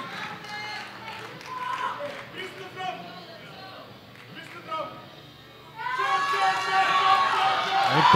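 A crowd cheers and applauds a lifter at the Sub-Junior/Junior World Powerlifting Championships. At first an announcer talks over it, then the cheering swells louder and fuller for the last couple of seconds.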